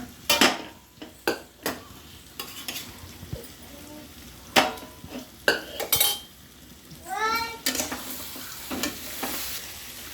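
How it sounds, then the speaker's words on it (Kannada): Hot cooked rice tipped into a pan of capsicum vangibath gojju, giving a series of short scraping, stirring and clinking knocks of a spoon against the vessel, close and fairly loud, with no talking. "ಈಗ ಅನ್ನ ಹಾಕ್ತಾಯಿದ್ದೀನಿ, ಬಿಸಿ ಬಿಸಿ ಅನ್ನ"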